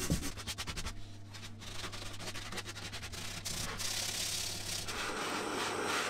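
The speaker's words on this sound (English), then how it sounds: "and then I sanded it smooth." A plywood bowl is sanded smooth, with quiet rasping strokes of abrasive against wood, a steady rubbing texture throughout with a low hum underneath.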